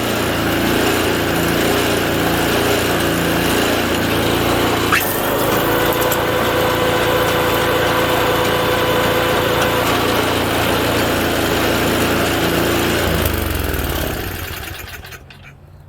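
An MTD snow thrower engine runs loud and close at a steady, even drone, holding the same pitch throughout before cutting off and fading at the end.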